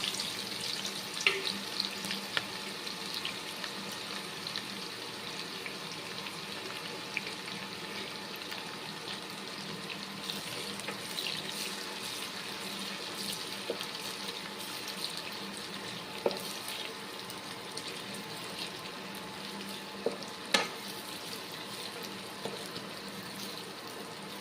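Chopped onions frying in hot oil for mutton biryani, a steady broad hiss of sizzling running alone throughout with occasional sharper crackles and pops, moderately close.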